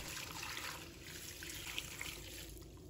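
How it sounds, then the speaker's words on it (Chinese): Clean water pours steadily into a plate holding two fresh bitter melons, a continuous close splashing trickle lasting a few seconds, fairly quiet, with no talking. "倒入清水"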